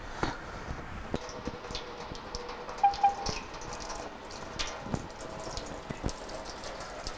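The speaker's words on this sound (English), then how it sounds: "there's still water that sits in the drain pump and through the hoses. So there's still going to be some water that comes out" Water trickling and splashing out of the drain pump filter at the bottom of a Kenmore washer as the filter is unscrewed, a steady close gush with a few brief drips and clunks.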